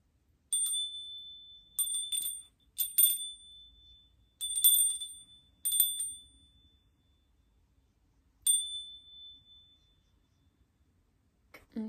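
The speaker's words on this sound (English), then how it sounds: "I literally have such a strong urge right now to ring my bell" A small bell rings in a quiet room, several bright clear dings in irregular clusters, some struck twice in quick succession, each ringing out briefly before fading into silence.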